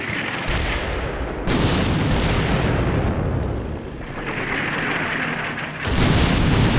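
Mortar shells explode in the war game Combat Mission Black Sea as a loud, heavy, sustained rumble of blasts, with several fresh booms breaking in one after another and no speech.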